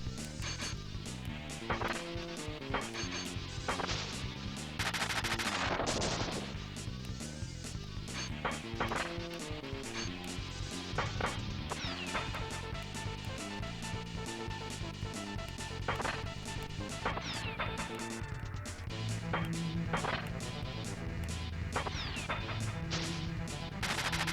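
Bomb blocks blow up in the Tetris Forever Bombliss puzzle game with repeated sharp crashing bursts, some heavy booms, scattered across a busy backdrop of game music and effects.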